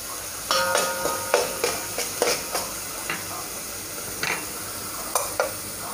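A ground paste of garlic, ginger and coriander is sautéed over full flame for masoor pulav, giving a steady sizzle. Sharp, repeated clicks of a spoon stirring against the pan come through close by.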